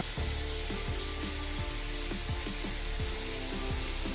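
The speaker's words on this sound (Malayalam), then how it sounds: "ഇനിയിപ്പം മറിച്ചിട്ട് നല്ലപോലെ വറുത്തെടുക്കാം." Salmon fillets seasoned with salt and pepper fry in hot oil in a pan, giving a steady close sizzle broken by frequent small pops and crackles, with no talk.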